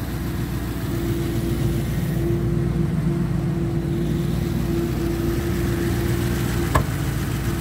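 A 1975 Triumph Stag automatic's engine idles steadily and close by, giving a continuous low rumble with a brief click near the end.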